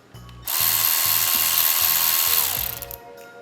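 A cordless power ratchet whirs loudly for about two seconds as it loosens a bolt on a wrecked 2016 motorbike, after a few faint rhythmic clicks, then spins down and stops.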